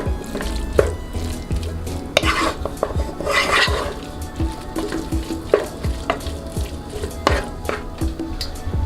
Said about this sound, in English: so my peas are frying up